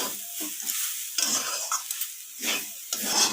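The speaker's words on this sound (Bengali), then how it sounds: "তো দেখুন এখানে নারকেলটা নাড়াচাড়া করার পর হালকা এখানে কালার ধরে গেছে।" Grated coconut filling for pitha is stirred in a pan over heat, with soft repeated scraping strokes of a spatula over a continuous gentle sizzle, close and fairly loud.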